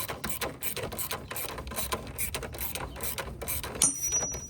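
Ratchet with swivel and socket turning an engine mount bolt on a BMW 228i, a rapid run of close, crisp clicking strokes in quick rhythm throughout, no talk.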